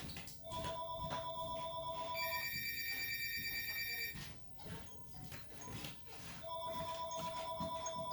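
A telephone rings in a home beside a Lennox iComfort M30 heat pump system, with repeated electronic ring bursts in a steady pattern, faint and slightly distant, mixed with soft background noises.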